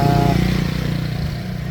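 A motorcycle engine laboring under a heavy load of iron stove parts, its front shock stiff, drones and throbs steadily nearby with a low pulsing rumble that eases slightly midway.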